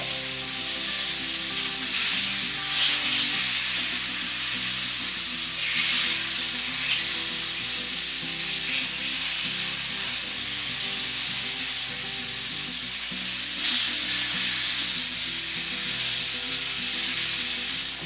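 Mallard duck pieces frying in a hot pan give a continuous loud sizzle with crackling bursts that swell at intervals, while a faint background hum persists.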